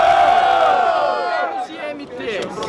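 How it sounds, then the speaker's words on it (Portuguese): Loud crowd cheering and whooping at a student rap battle in Guarulhos, a dense roar that fades somewhat partway through before scattered shouts rise again. "Barulhos pra quem gostou da rima do Breno."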